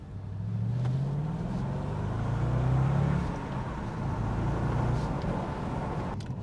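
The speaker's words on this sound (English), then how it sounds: "we're out here just having a little bit of a drive" Steady low engine rumble and road noise from inside a moving Audi S5, continuous and fairly loud, with slight rises in engine pitch.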